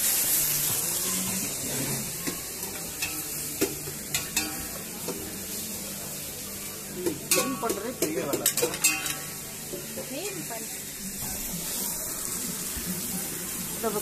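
Dried fish (karuvadu) frying in a pan for a village-style fish curry: a steady sizzle with scattered utensil clinks and stirring scrapes, fairly close, with faint voices now and then.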